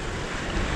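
Steady broadband rush of wind and sea surf on a Mediterranean sailing crossing, constant and fairly loud, with no distinct breaks or voices.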